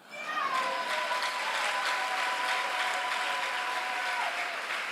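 A church congregation at a Sunday worship service breaks into applause and cheering, a dense, sustained clapping that stays loud and steady throughout, with a few high voices or whistles rising above it.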